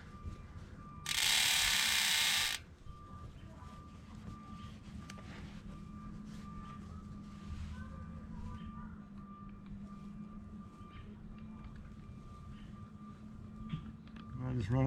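A bicycle chain on a 2018 Kona Wozo, freshly treated with WD-40 dry lube, runs through the drivetrain with a steady mechanical ratcheting clatter at moderate level, after a brief loud hissing burst near the start.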